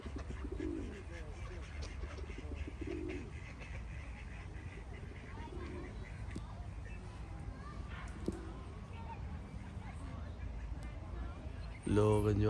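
Pigeons cooing in a Manchester park beside a pond with ducks, soft repeated coos under a steady outdoor hum and ongoing talk, with a louder burst of noise at the very end.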